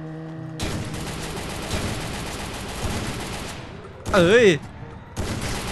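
Sustained bursts of rapid automatic gunfire in the game Free Fire, loud and continuous with a brief gap, broken by a short exclamation from a player and a warbling in-game effect.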